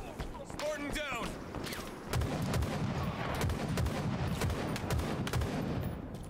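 Gunfire in the Halo Infinite shooter, a dense, continuous rattle of rapid shots and booms filling the scene, with a voice speaking over the start.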